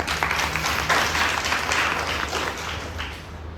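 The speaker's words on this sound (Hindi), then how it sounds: "ताली बजाओ" A dense wash of audience clapping at a devotional katha gathering, steady and fairly close throughout, easing slightly toward the end with no voice on top.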